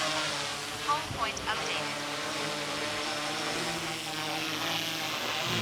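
A DJI Mavic 4 Pro drone takes off, giving a steady high propeller buzz that holds close and even, while a person talks briefly over it near the start.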